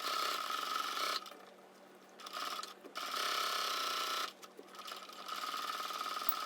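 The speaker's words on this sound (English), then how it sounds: "So I'm going to sew down this edge, the bottom part only." A sewing machine stitches the bottom edge of a fabric origami tote bag, running in loud, steady close-up bursts that stop twice for short pauses before starting again, with no speech.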